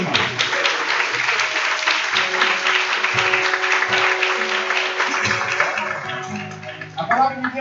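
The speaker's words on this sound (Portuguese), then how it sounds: "Pode aplaudir, irmão." A church congregation claps steadily through a Portuguese-language service, a dense sustained patter joined by sustained musical tones and a few low voice bursts, thinning out near the end.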